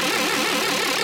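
Serum synthesizer patch with an LFO sweeping the filter cutoff, giving a dense, buzzy, steadily sustained tone that shifts in color throughout, loud and alone with no talking.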